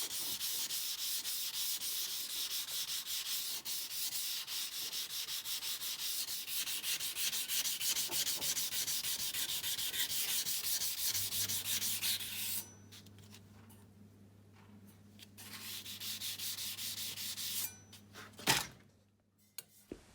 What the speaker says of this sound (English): Now that I'm done hand sanding